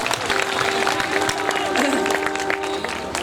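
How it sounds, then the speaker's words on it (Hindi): Applause from a crowd at a Hindi poetry gathering in Khariar Road, a dense steady wash of clapping with a voice and a whistle-like tone briefly heard over it. "मैं चाहता हूँ एक और कविता के लिए एक बार जोरदार तालियां।"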